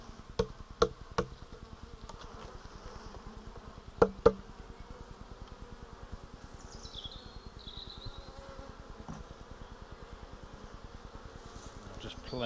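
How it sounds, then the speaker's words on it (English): Honeybees buzzing softly around a backyard hive as they are knocked and shaken out, with a few sharp wooden knocks early on and a steady low hum throughout. "There's quite a few bees actually inside here, so I'll just knock them down and shake them out."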